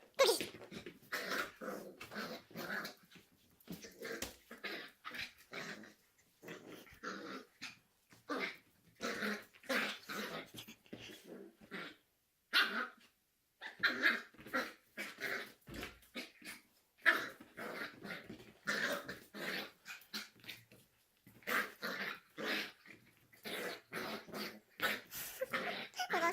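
A puppy playing with a ball gives close, quiet growls, whimpers and short barks in scattered bursts, with brief pauses between them.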